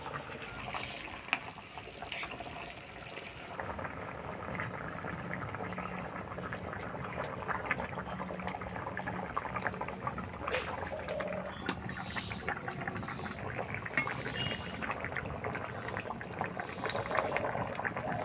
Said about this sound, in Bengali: ঝোলে বলক এসে গেছে, এবার ভাজা মাছগুলো দিয়ে দিব।